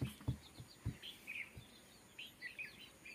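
Sparrows chirping, faint high tweets scattered through a quiet room, with a few soft low thumps nearby.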